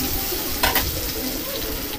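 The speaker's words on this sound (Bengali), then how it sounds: "কড়ার মধ্যে গরম তেলের মাছ ভাজা তেলের মধ্যেই আলুগুলো ছেড়ে দিয়েছি।" Sliced potatoes, lightly salted, sizzle in hot oil in a wok that was just used for frying fish, a short, steady crackling hiss at close range.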